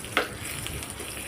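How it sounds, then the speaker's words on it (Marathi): Hot tempering with asafoetida poured over South Indian sambar, a sharp sizzling burst followed by a steady, soft frying hiss with faint stirring, with no talk. "तुम्ही ही फोडणी आपल्या सांबारवरती घातली"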